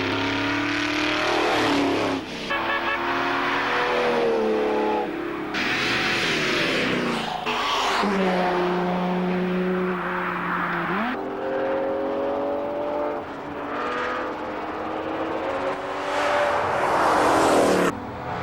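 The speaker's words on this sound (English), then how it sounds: "getting a chance to let loose its 600 horsepower V12 engine" A Jaguar XJS with a 600-horsepower V12 races hard along a Targa rally stage, its engine roaring loud and close, revving up and down through gear changes with continuous strong drive and no voices.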